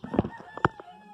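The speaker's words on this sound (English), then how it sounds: "It's a chicken. That's a chicken." Short bursts of fowl calls from a chicken, a few clucking or honking notes over about a second, fairly close and clear, with no talk.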